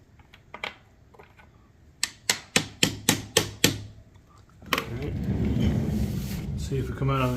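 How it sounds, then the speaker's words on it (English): A 6mm socket hammers at a stuck ebike motor mount bolt: two light taps, then a quick run of about seven sharp, evenly spaced metallic blows up close. Someone speaks afterward. "see if I can just hammer it out a little bit"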